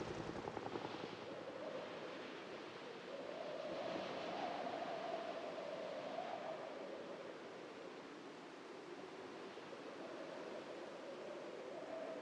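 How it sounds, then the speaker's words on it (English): A video game helicopter gives off a continuous, broad whooshing rotor drone with a slowly wavering pitch, steady and moderately loud, with no talking. "What is with this chopper? Why does it demand to be here?"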